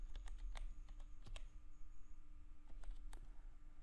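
Fingers type on a computer keyboard while filling in account fields, a quiet run of light irregular key clicks in short bursts with brief pauses, close and alone.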